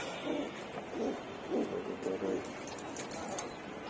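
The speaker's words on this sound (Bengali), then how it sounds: "সবগুলো পেয়ারে ঘুঘু সবগুলো বাচ্চা নিয়ে এসেছে।" Doves in a rooftop garden coo in a series of low, rounded calls, four or five evenly spaced phrases, fairly close over faint background noise.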